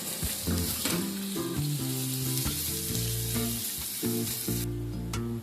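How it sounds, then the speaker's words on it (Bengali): Onions with four green chillies frying in a pan for a Bengali prawn bharta, a steady close sizzle running under loud tonal background music. "এবার এই সমস্ত কিছু আবারও একবার হালকা করে একটু ভেজে নেব"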